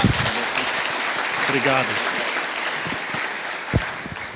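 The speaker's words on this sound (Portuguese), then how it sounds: "Salva de palmas para o Ivo." Audience applause at a mobility conference, a dense wash of clapping from a crowd with a man's brief spoken thanks heard over it.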